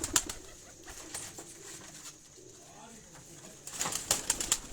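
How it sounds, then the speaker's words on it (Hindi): Pigeons landing on a rooftop in Chak Shahzad, Pakistan, with wing flaps and brief bird sounds scattered through quiet outdoor ambience, growing busier near the end. "ये दोस्तों एक कबूतर जो है ये लैंडिंग पोजीशन पे है।"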